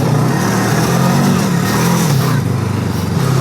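Voge 500DSX trail motorcycle ridden off-road on a buggy circuit with ABS switched off, its engine droning loud and steady throughout with slight shifts in pitch, close to the microphone, with no talk.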